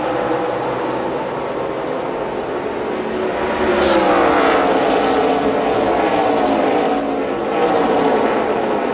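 NASCAR Nationwide Series race cars at Michigan International Speedway accelerating hard on a restart, a loud, continuous roar of many engines with rising pitch that swells midway and stays dense throughout.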